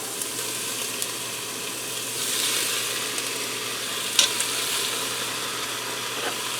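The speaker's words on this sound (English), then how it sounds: "now that my onions are nice and softened up, I'm going to put my pork chops back in" Pork chops laid on softened onions in a Ninja Foodi cooker, giving a soft steady sizzle and hiss, close and fairly quiet, with a few faint clicks and one brief sharper knock partway through.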